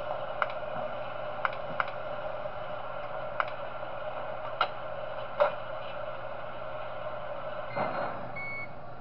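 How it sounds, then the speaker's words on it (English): A microwave switched on inside the Those Nights At Wario's 3 horror game gives a steady electronic hum, broken by sharp ticks and clicks at irregular intervals and a brief rising whir near the end, with no one talking. "Let me turn on the microwave."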